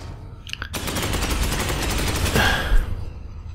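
Gunfire from the Space Hulk Ascension video game, with a dense, steady burst of rapid shots rolling on for about three seconds and a heavier blast near the end, loud and close.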